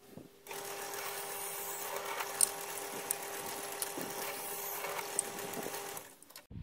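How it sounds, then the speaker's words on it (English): A drill works through holes in a metal sheet, enlarging them to 10 mm for a cemetery vase, giving a steady close whine with a constant tone and faint grinding, starting and stopping abruptly. "Now we've got to drill these out to size, which, as we know from the bolt, is 10 millimeters."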